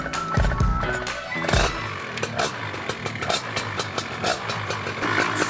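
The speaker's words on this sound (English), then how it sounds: "Sounds like a 2-stroke dirt bike" A new paramotor's two-stroke engine is pull-started, coughs through a couple of loud bursts, then catches and runs with a steady, buzzing, dirt-bike-like drone close by, with some clattering along the way.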